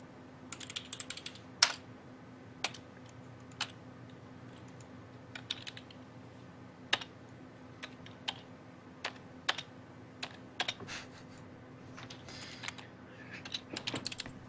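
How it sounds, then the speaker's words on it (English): Typing on a computer keyboard, sparse bursts of clicking keys and isolated sharp taps spread irregularly across the span, close and fairly quiet over a low steady hum. "A lot of typing going on"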